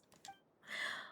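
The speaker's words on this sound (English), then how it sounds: "I heard Yehuda gasp." Yehuda, a character in a video game, lets out a short, sharp intake of breath, a brief close gasp followed by a longer airy exhale, heard alone.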